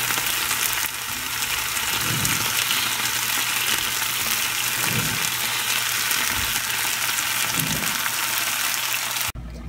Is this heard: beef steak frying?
yes